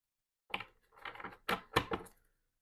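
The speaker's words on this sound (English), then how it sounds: "And then we're going to shuffle up our player deck." Cards from a player deck riffled and shuffled during a Marvel Champions tabletop card game, several quick crisp bursts of fluttering paper rising to a sharp final snap, close and fairly quiet with no talking.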